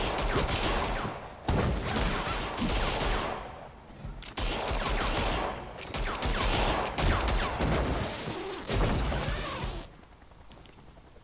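Gunfire crackles in the video game Evil Genius 2 as several dense volleys of rapid shots run for a few seconds each, separated by short lulls, before fading to a quieter tail.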